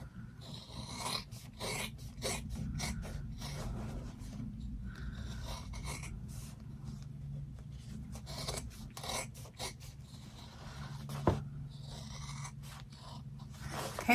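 Scissors snip through quilted fabric around the stitching in quick, repeated rasping cuts, faint and close, with a soft continuous rubbing between strokes.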